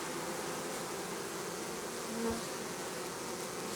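A soft, continuous buzz of many honeybees around an alpine hive, faint and even throughout, with one brief closer hum passing by.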